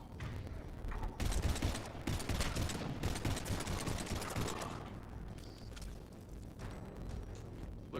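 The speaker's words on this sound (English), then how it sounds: "Keep firing." Sustained gunfire in the video game Mass Effect 3, rapid bursts and mechanical clatter filling the whole stretch at moderate loudness, with short gaps between volleys and no talk.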